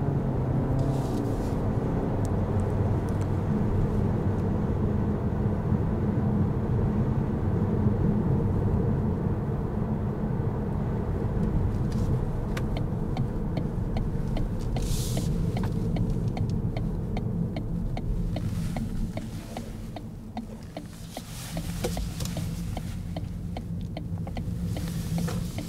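An Opel Astra L PHEV plug-in hybrid accelerates from inside the cabin, a steady low drive hum and road rumble rising over time, with faint ticking from the indicator toward the end.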